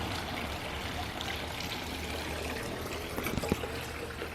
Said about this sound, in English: a little water feature there